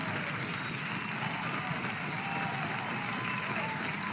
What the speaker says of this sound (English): I should take that canned applause around with me